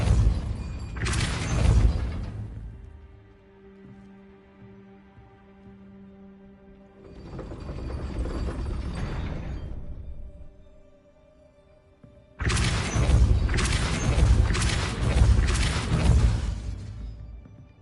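Spell casts in the wizarding game Hogwarts Legacy, three separate bursts of whooshing, booming impact sound separated by quieter gaps, the last one longest with several quick hits.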